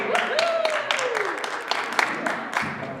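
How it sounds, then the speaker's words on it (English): A theatre audience at a rehearsal of The Mystery of Edwin Drood claps for Cricker and Son, scattered distinct hand claps of moderate loudness over a murmur, with a voice speaking underneath. "let's give a warm round of applause for Cricker and Son"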